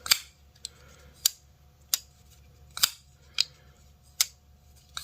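A budget folding knife under $30, not lubricated, is opened and closed with a light gravity assist. About eight sharp, crisp clicks and snaps ring out at uneven intervals, close up, against a quiet background.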